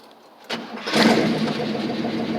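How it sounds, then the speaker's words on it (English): A small block Chevy engine cranks briefly on its starter and fires up, settling into a loud, steady idle close by. "Hopefully this starter won't hit the flywheel. It'll go on and start on up."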